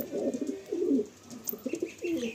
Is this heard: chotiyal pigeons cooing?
yes